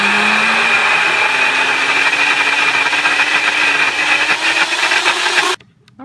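Blender motor whirring steadily as it purees dehydrated turkey, a loud continuous drone with a slowly rising pitch that cuts off abruptly near the end.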